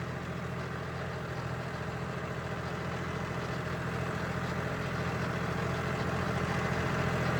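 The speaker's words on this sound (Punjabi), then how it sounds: "ਹੁਣ ਟਰੈਕਟਰ ਖੜਾ ਹੋਊਗਾ ਦੇਖਦੇ ਜਾਇਓ ਤੁਸੀਂ" A tractor engine idles steadily, a low even rumble with a faint mechanical rattle that grows slightly louder over the few seconds, with no voices.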